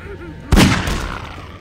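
Magnum revolver gunshots from the video game Half-Life 2, with one loud, close blast and a booming tail that carries on behind it.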